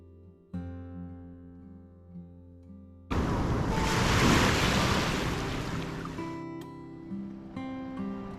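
Sea waves break and wash up on the fine sand of Hulhumale beach in the Maldives, a broad surging roar that swells after a quieter start with wind noise and some tonal background sound.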